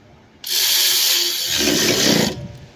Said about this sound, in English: Now we're about to tighten those bolts.